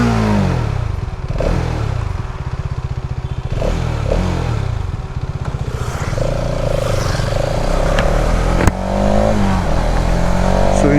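A 2026 Hero Xtreme 250R motorcycle engine idles with a throbbing pulse close by, then revs up in several rising surges, with a sharp click partway through and a voice talking over it.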